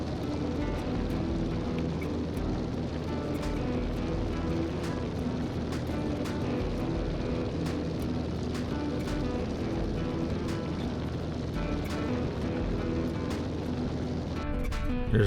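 An 80-year-old vintage airplane flying across the Midwest gives a continuous, loud, rumbling engine drone with rough buffeting, heard steadily from inside or close by for the whole stretch.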